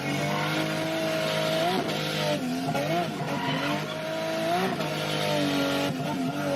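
A race car drives hard around a track at a Boonies Bash event, its loud engine revving and shifting steadily as it corners, with tire noise and no talking.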